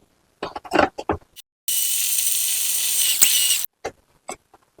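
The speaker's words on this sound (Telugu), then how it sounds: "మిక్సీ పట్టేద్దాం" A mixer grinder blends ginger, garlic, mint and coriander into a paste for egg biryani, running as one loud, steady whirring burst of about two seconds, with short clattering knocks just before and after.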